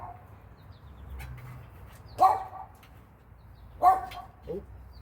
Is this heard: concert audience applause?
no